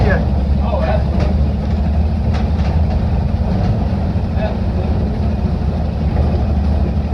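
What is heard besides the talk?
1960 Grumman Olson van engine running while driving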